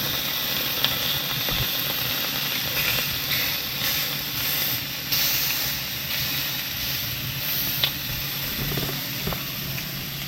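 Food sizzling in a hot pan for chicken tomatillo soup, a loud, steady, close hiss with faint clicks, alone without talk.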